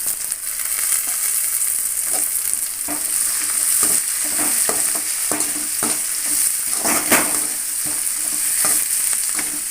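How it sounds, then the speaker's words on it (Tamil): Chopped tomatoes fry in a pan for mutton gravy, giving a constant loud sizzle broken by repeated scraping stirs of a spoon. "இப்போ வந்து கட் பண்ணி வச்ச தக்காளியை இது கூட சேர்த்துடலாம்."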